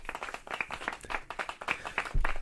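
Applause and clapping break out in quick, dense bursts, fairly loud and continuous, with a heavier thump near the end and no speech over it.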